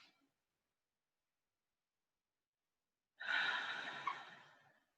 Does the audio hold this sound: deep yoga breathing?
yes